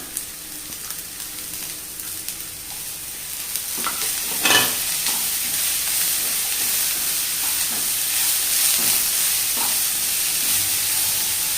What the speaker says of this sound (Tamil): முட்டைக்கோசு லைட்டாக வதங்கி வரணும்.